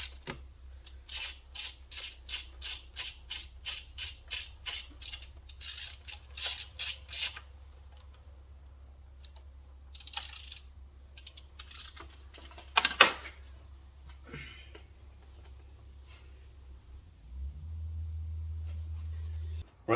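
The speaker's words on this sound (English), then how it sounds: "just go very gentle, bit at a time to get the spark plug out" A socket wrench works a spark plug loose on a 2004 Toyota Celica T-Sport 190, giving a fast regular run of ratchet clicks followed by more scattered clicks and scrapes, close up over a low steady hum.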